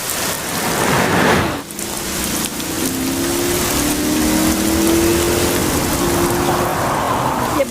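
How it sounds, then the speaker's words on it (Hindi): Heavy rain pours steadily and loudly throughout, a dense continuous wash with a faint low rumble underneath and no voices. "एक तो आज बारिश भी बहुत तेज है"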